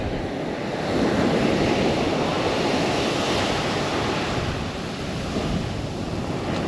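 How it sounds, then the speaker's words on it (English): Ocean waves break in a shore break on Oahu's North Shore, Hawaii, a steady, wide rush of surf, with wind noise over the microphone. "Very much of a shore break, which is pretty consistent apparently."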